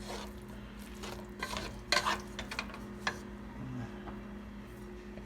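Chili spaghetti sizzles softly in a pan while a utensil scrapes and stirs it in a few brief, faint bursts.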